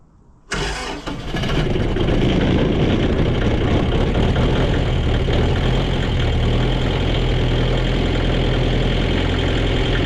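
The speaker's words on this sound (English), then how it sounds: "So the tractor's warming up." Old diesel tractor engine cranks and fires, then settles into a loud, steady, slightly knocking idle as it warms up, close by and continuous with no talk.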